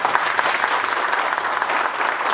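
An audience applauds steadily for a rural heritage museum, dense even clapping from a crowd that holds at a constant moderate level throughout with no voices on top.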